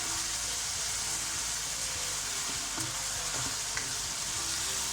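Beef mince with onion, garlic, ginger and turmeric sizzling steadily in hot oil in a pan, a dense continuous fry with faint stirring scrapes and no talking.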